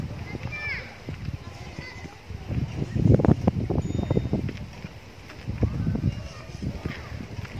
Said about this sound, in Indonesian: Jadi lumayan berangin ya hari ini.